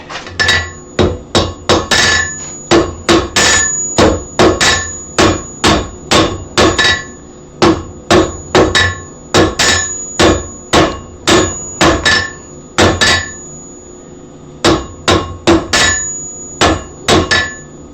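Hammer blows strike hot metal during a forge weld, a fast run of sharp, loud, ringing impacts in quick clusters with brief pauses between bursts, close and with no talk over them.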